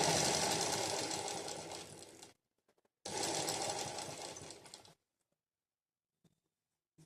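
A sewing machine stitches the lining of a blouse back in two steady bursts of about two seconds each, separated by a short pause and followed by near silence with a few faint clicks.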